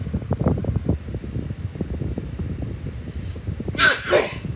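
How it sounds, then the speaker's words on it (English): A single sharp sneeze bursts out near the end, following several seconds of soft rustling and low background noise. "I'm about to sneeze, so forgive me in advance"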